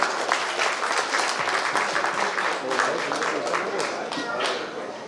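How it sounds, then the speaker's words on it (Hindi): An audience applauding to welcome a stage play performed by staff of a steel plant, dense sustained clapping from a crowd throughout, fairly loud and close, with some voices mixed in. "आपका ताली बजा के इस नाटक का स्वागत है"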